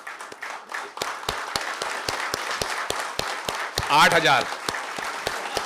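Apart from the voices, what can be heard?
audience applause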